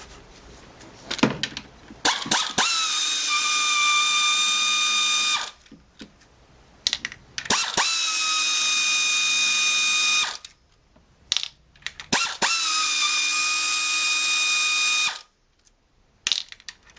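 Ratchet removing Torx bolts from the vanos unit of a BMW E36 engine, three long bursts of loud, rapid, buzzing clatter at close range, each preceded by short clicks and separated by brief pauses.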